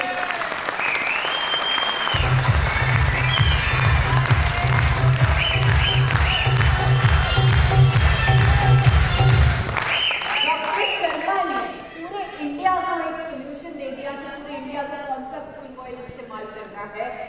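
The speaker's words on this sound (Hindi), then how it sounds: "एक बार हमारे chairman doctor A R Sharma के जोरदार तालियां होनी चाहिए" Audience at a corporate event breaking into loud sustained applause and cheering, with a voice talking over the clapping before it fades.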